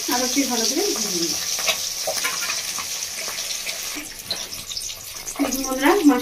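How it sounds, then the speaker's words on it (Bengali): Bhola fish sizzling in hot oil in a pan after being flipped, a constant close frying hiss with bubbling crackle, while a voice talks faintly at the start and end. "দেখুন বন্ধুরা, মাছটা ভাজা হচ্ছে।"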